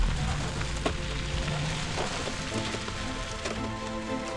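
Rain on a travel day near the Russian-Finnish border, a steady close patter and hiss with scattered drop ticks, no voices.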